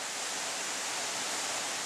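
The Sombrun waterfall on Manus produces a steady, even rush of falling water, a constant dense hiss heard alone with no talk.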